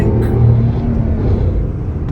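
A Renault Triber, top-of-the-line Prestige trim, accelerating on a test drive, heard from inside as a steady loud low engine and road rumble with no clear rev changes.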